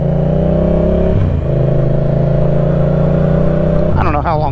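A Yamaha FZ-07 motorcycle engine drones steadily and loudly on a night ride, with a shift in pitch partway through. Speech joins in near the end.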